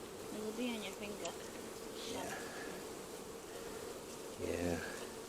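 Honeybees hum steadily around an open hive during a colony inspection, a continuous close buzz with brief voices talking over it.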